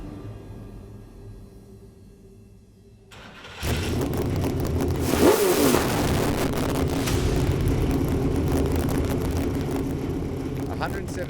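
A Supercars race car fires up in the pit lane, the engine catching after a few seconds and settling into a loud, steady roar with a brief rev surge; a voice is heard faintly beforehand.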